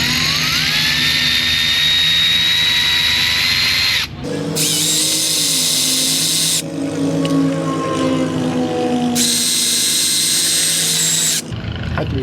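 Power tool spinning out bolts in an auto repair shop, loud whirring bursts that start and stop in several long runs, with a rising whine and brief pauses between them.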